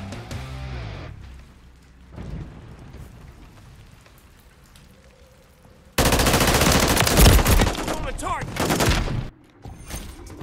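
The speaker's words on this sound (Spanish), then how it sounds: "Están disparando por aquí." Gunfire in the video game Modern Warfare 3 on the map Grime, a loud dense burst of rapid shots starting midway and running several seconds, preceded by quieter background game sounds.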